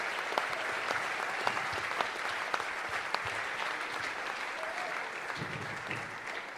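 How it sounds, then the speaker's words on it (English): Steady, dense applause fills the hall from a large audience at the 2019 International Folk Music Awards. Many hands clap evenly throughout with only a faint murmur of crowd beneath. "Can we just give a round of applause to everybody here from Folk Alliance who's pressing on?"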